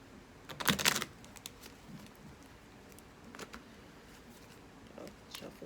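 Tarot cards riffle and shuffle in a quick soft burst up close, followed by quieter intermittent tapping and rustling.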